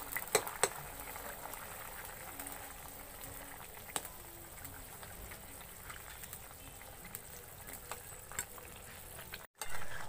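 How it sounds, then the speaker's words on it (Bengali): A pot of fish curry with raw banana and pona fish simmers quietly, with soft continuous bubbling and occasional small pops and clinks. "এবার মাছগুলো আমি দিয়ে দিচ্ছি, দিয়ে খানিকক্ষণ ফুটিয়ে নেব।"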